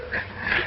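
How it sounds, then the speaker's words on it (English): A dog gives a single brief, close whimper, a short high whine with no talk over it. "Are you sure this is the dog we want?"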